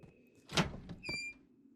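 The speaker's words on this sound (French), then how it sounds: "une porte qui s'ouvre toute seule" A door in the horror video game Granny swings open by itself, giving a soft thump, a creaking squeal and a second thud with a thin high whine, heard quietly with no voices over it.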